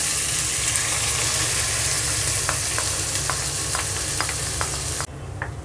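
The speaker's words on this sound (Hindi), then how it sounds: "प्याज हमने डाल दिए हैं। मीडियम फ्लेम पर हम 1 मिनट भूनेंगे।" Onions sizzle steadily in a pan for bhindi sabji over a medium flame, frying continuously up close, with a few light clinks of a spoon stirring, before the sizzle drops abruptly quieter near the end.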